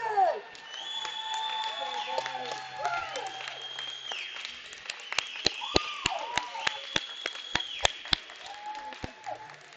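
After a 16U youth hockey team wins a summer tournament final in an Ottawa rink, the crowd applauds and cheers, with shouts and whistles rising over sustained clapping and sharp smacks echoing in the arena.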